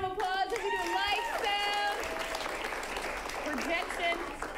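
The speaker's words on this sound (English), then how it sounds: "Let's give him a round of applause." A live audience at an improv comedy show gives a round of applause to a tech-booth crew member. Sustained clapping runs under a voice that is clearly heard near the start, then continues steadily at moderate loudness.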